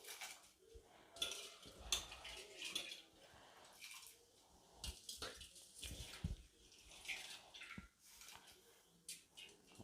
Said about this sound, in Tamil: நம்ம கையில் எடுத்து அரிசியை நல்லா வடிச்சிட்டு தான் போடணும்